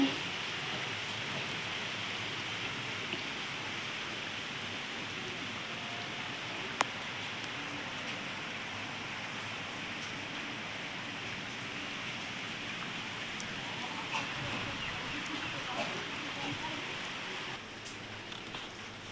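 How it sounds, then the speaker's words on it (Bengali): Heavy rain pouring steadily over a wedding-house gathering in a storm, a dense even hiss of downpour that holds unbroken throughout, without any voices. "ঝমঝম করে বৃষ্টি পড়ছে।"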